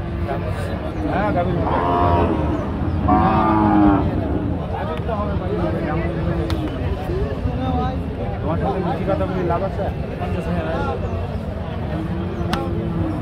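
A crossbred cow moos several times, low and drawn out, amid steady chatter from people nearby at the busy outdoor Chougachha cattle market in Bangladesh.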